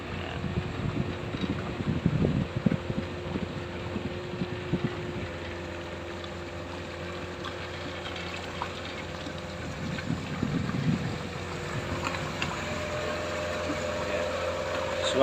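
A river tour boat on the Serayu River at Papringan, Banyumas, runs with a steady low engine drone and wind buffeting the microphone, while occasional muffled knocks and splashes ride over the hum.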